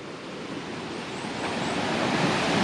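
A continuous broadband roar of Rōjin Notaki Falls in Yakushima National Park, Japan, steady and fairly close, swelling slightly louder toward the end with no voices.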